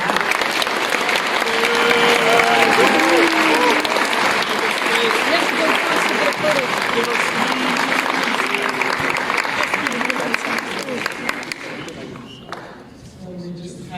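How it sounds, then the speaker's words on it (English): A live event audience claps together after an interview with Gabe Newell, a steady, dense wash of applause filling the room that holds strong for most of its length before thinning and tapering off near the end. "So let's give Gabe one more clap."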